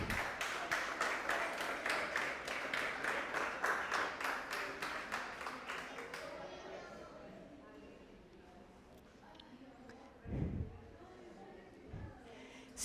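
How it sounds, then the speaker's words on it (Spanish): Church congregation clapping together in a steady rhythmic beat for several seconds, loud and roomy, then fading into murmuring and scattered low thumps. "Dale un aplauso al Señor."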